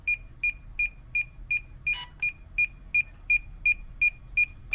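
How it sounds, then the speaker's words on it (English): A DJI Mini 2, Air 2 or Air 2S remote controller in pairing mode gives a steady series of short, evenly spaced electronic beeps, roughly three per second, close and clear over a faint low background hum. "It's beeping because it's in pairing mode"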